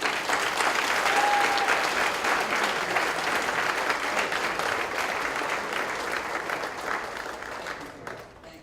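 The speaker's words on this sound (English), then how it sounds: "So can we give a round of applause?" An audience at a city's State of the City event applauds loudly and continuously, a dense wash of many hands that slowly tapers off near the end.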